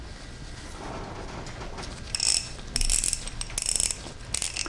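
An old Blackhawk 49945 half-inch drive ratchet, stiff and in need of lubrication, being clicked up close in short bursts of bright metallic ticking over a faint room background.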